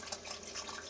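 Water streams steadily from a sparge shower head on a homebrewing recirculation setup during an American amber ale brew day, a faint continuous splashing hiss with no voices.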